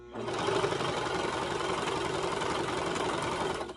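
A cover stitch sewing machine runs steadily while hemming a shirt, its rapid mechanical whir and needle chatter sustained close up for nearly four seconds without pause.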